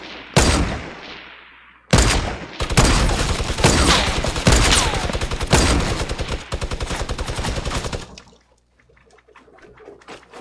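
A minigun in a video game fires in long, rapid, dense bursts, loud and close, with brief gaps between volleys before the firing trails off into quieter background sound.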